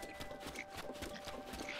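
Steady rhythmic clip-clop of horse hooves at a trotting pace in the video game Zelda: Breath of the Wild, with a faint tonal hum underneath.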